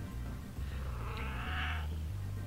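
A pet cat purrs close to the microphone, a low, steady rumble with a brief higher breathy sound in the middle, with no talking.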